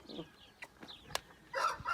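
Aseel chick peeping in short, high chirps at close range, with a few brief clucking sounds and a louder burst of chirping near the end.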